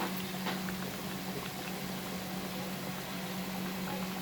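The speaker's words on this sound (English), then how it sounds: "we will now fry this" Chicken pieces in a cheese coating frying in a pan over a medium-high flame, giving a steady, close sizzle and fine crackle with a low hum underneath, even and unbroken throughout.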